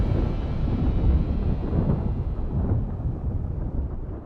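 Thunder rolls as a deep, heavy, sustained rumble that slowly fades, with no voices heard.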